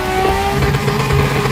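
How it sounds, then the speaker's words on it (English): Car tires squeal loudly and continuously during a second-gear burnout drift, close up, with the engine droning underneath and no talking. "now I'm off the brake and leaving that drift. Well, burnout drift."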